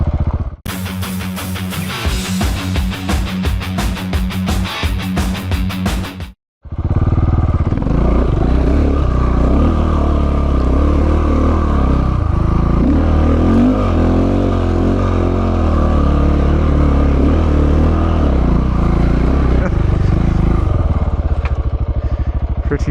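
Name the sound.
off-road motorcycle climbing back up a hill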